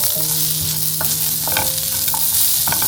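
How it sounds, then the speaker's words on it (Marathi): Garlic, chili and ginger sautéing in a hot pan, a steady loud sizzle with a few scraping stirs of a spatula and a faint humming tone underneath, no voices. "इकडे लसूण, मिरची आणि आलं हे घेतलंय. हे पण याच्यामध्ये मस्त परतून घेऊया."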